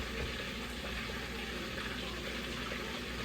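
Golden fish frying in hot oil, a constant dense crackle and hiss that stays even and close throughout, with no pauses.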